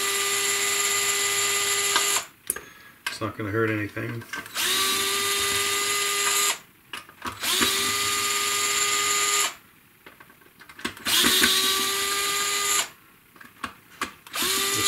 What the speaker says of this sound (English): and then I can use the drill here